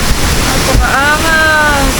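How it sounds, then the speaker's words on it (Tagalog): Waterfall at a hidden resort in Biliran, a dense broad rushing roar heard up close, with a person talking over it. "Wow, ito yung falls na sinasabi ko sa'yo."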